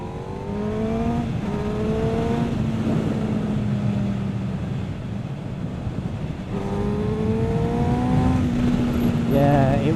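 A 2017 Honda Fireblade SP sport motorcycle ridden hard around a track lap, its engine climbing and dropping through gears in rising revving sweeps, steady and loud with wind rush, a rider's voice faintly present.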